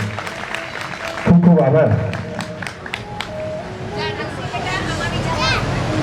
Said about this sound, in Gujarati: એટલે એકવાર આ બધા માટે જોરદાર તાળીઓ થઈ જાય.